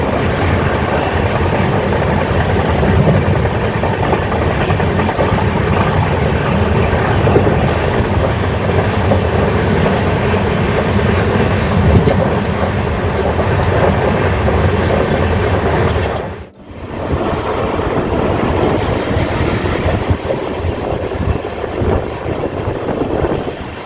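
South Bihar Express passenger train rolling along near Rourkela, heard close from beside the open carriage door: a loud, continuous roar of wheels and wind, with a brief dip partway through before the rumble resumes.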